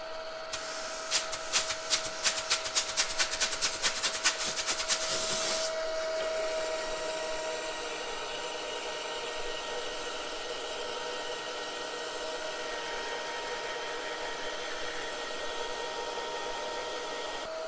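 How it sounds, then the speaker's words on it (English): A rapid series of sharp clicks or taps at the start gives way to a steady mechanical hum of a drill at about 250 RPM boring through a Minneapolis-Moline G1000 cylinder head with coolant, moderately quiet. "Helps keep the drill cool as we're going through."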